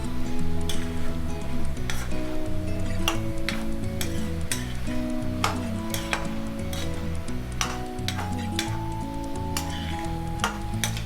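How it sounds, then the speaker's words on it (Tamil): Bell peppers stirred into a sizzling masala for chicken lasagna: steady frying hiss with a spoon repeatedly scraping and tapping the pan in an uneven rhythm, close and moderately loud, with no talking. "மூணுமே ஆட் பண்ணிவிட்டு நல்லா கலந்து விட்டுடலாம்."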